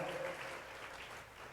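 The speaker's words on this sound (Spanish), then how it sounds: "Gracias por darle estas palmas al Señor" A church congregation claps together during a Sunday service, a soft, distant patter of many hands over a low murmur, fading slightly toward the end.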